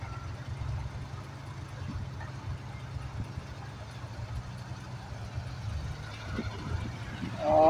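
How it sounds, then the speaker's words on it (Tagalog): A dump truck at a landfill idles and rumbles at a moderate distance, a low steady engine drone with faint background activity, growing slightly louder at the very end. "may pumasok na naman na isang truck para sa pagtambak doon sa"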